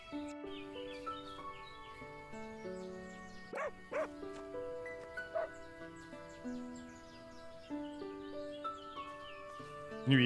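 A dog in the farming game Everdream Valley gives a few short barks, mid-distance, over light game music with chirping birds.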